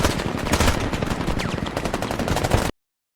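Sustained automatic gunfire in the military shooter game Squad, a dense stream of rapid loud shots laying down suppressing fire on a position, continuous for nearly three seconds before cutting off abruptly.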